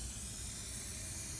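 Aerosol plastic restorer sprayed onto faded car trim, a steady continuous hiss close to the can, even and unbroken throughout.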